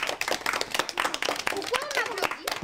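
Children clapping together at a snow-class gathering, a short burst of scattered, uneven handclaps close by, with young voices chattering and calling out over it.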